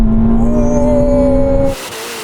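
A Ferrari SF90 and a Porsche Taycan Turbo GT launch in a drag race with a loud, close engine drone rising steadily in pitch, then cutting off abruptly into a quieter hiss.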